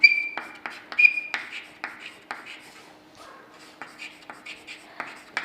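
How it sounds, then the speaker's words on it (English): A pen scratches out an answer by hand in short, close strokes with brief pauses between them, as a fairly quiet, intermittent rubbing sound. "So you have to write Yuan Sang"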